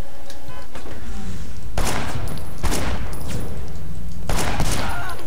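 Bursts of gunfire from the video game Sleeping Dogs crack out in three loud volleys, each a dense rattle with brief gaps between, over a steady background of game ambience.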